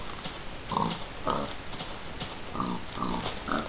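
A pig in the Minecraft video game oinks in about six short, separate grunts spaced unevenly over a few seconds, clear and close against a quiet background.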